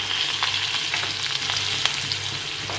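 Chopped onion with a little turmeric frying in hot oil in a wok, giving a loud, dense, continuous sizzle with light crackles and an occasional stir throughout.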